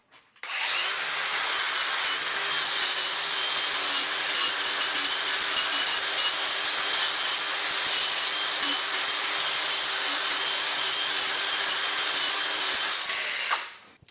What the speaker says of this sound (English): We're using a Porter Cable 60 grit flap disc I got from Harbor Freight.